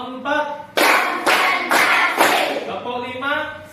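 A group claps together in time during a morning gathering, four sharp unison claps at a steady beat, each following a chanted count from a leader whose voice is heard between the claps.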